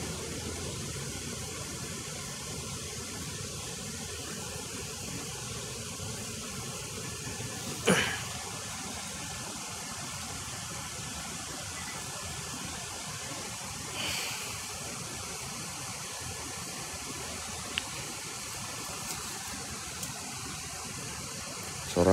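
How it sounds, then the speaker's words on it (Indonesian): The Seribu Bidadari waterfall gives a continuous broadband rush of falling water, steady and moderately quiet, with a couple of brief knocks and clicks and no talking. "Suara air terjun."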